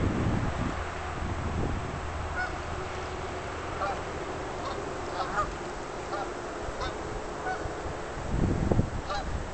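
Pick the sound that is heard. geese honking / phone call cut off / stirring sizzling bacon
geese honking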